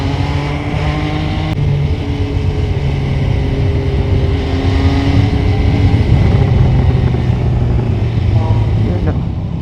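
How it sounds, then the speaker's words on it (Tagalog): Motorcycle with a newly installed aftermarket exhaust running at idle, a loud, close, steady droning rumble with rich throaty tones, holding evenly the whole time with a voice faintly present at moments. "yun yung pinakabit natin, exhaust"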